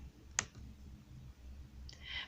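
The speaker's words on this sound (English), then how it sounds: "I'm going to click on Google Calendar." A single sharp mouse click on a computer, quiet and close, followed by a faint, brief second click-like tick in an otherwise silent room.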